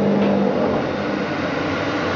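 A Schiess ZK180 vertical borer runs with a steady, dense mechanical hum and whir, constant in level throughout with no voices.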